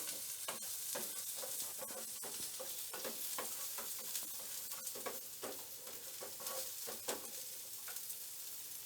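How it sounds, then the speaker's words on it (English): Red onion and garlic fry in a pan with a soft, steady sizzle, while a spatula scrapes and stirs in a quick repeated rhythm close up. Nobody speaks. "I am going to add garlic to it. I will fry it till the raw smell of garlic goes away."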